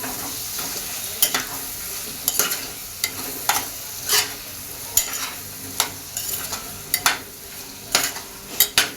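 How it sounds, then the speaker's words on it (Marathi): Vegetables sauté in a hot pan for Marwari khichdi. A soft continuous sizzle sits under repeated spatula scrapes and clinks that come every half second to a second. "म्हणजे कसं भाज्या टाकल्या की छान चव येते याला आता हे छान परतून घेऊ आपण"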